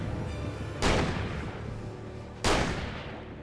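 Two loud, close shotgun blasts in the video game Alan Wake, the first at under one second and the second about a second and a half later, each a sharp crack with a long decaying boom and no voices over them.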